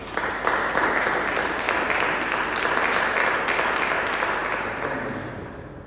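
A church congregation applauds for Jesus during a pastor's sermon, a dense, steady wash of clapping hands that carries loud and continuous throughout, with faint voices mixed underneath.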